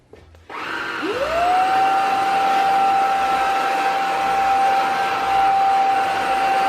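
A Womow 25Kpa 400W cordless vacuum cleaner switches on in normal power mode and spins up with a rising whine, then holds a steady, loud motor hum with an airy rush.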